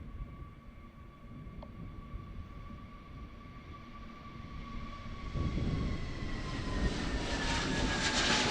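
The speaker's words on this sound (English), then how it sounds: "this is the Play going to Reykjavik, Airbus A321, with a very nice livery" Play Airbus A321 airliner departing for Reykjavik, a steady jet engine roar that swells louder in the second half as the aircraft nears, with a whining tone sliding downward, no talk.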